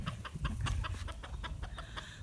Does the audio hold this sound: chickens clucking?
yes